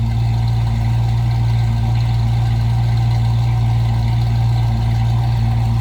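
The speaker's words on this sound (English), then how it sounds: "Little rumble coming out of that 302." A 1967 Ford Mustang coupe's 302 V8 idles with a steady, even low rumble heard from behind the car, constant and moderately loud throughout with no talking.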